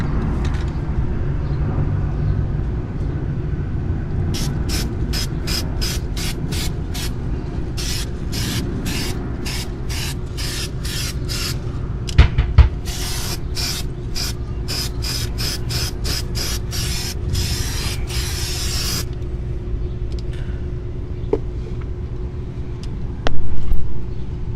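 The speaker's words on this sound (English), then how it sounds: "here comes the primer" Aerosol primer sprayed onto a car ahead of rubberized undercoating against rust: a run of short, evenly spaced hissing bursts merges into longer continuous sprays, all over a steady low rumble, with a couple of faint knocks.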